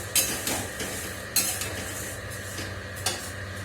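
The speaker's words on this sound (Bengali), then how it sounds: "বেশ একসাথে সব মিক্স করে দেবো, আস্তে আস্তে করে ভাজবো" A spoon stirs a mixture slowly frying in a pan, soft continuous sizzle with a few sharp metallic scrapes and clinks spaced through the clip, close and without voices.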